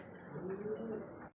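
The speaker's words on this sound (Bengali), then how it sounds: "সাদা ঘুঘু অস্ট্রেলিয়ান ঘুঘু দেখেন" Australian white doves cooing nearby in a pigeon and dove keeper's loft, one soft low rolling coo lasting about a second, fairly faint and alone before it cuts off.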